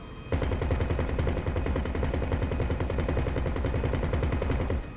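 Rapid automatic gunfire in a video game, aimed at an animal carcass: a dense, loud burst of evenly spaced shots starting abruptly and running steadily for nearly five seconds with no talk.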